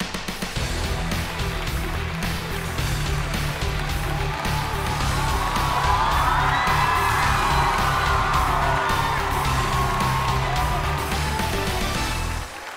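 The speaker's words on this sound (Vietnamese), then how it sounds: "Hãy dành một tràng vỗ tay cho Tấn Hoàng" A studio audience cheers, whoops and yells for Tấn Hoàng on a Vietnamese comedy game show, a loud, sustained crowd roar lasting the whole stretch with a brief rising shout in the middle.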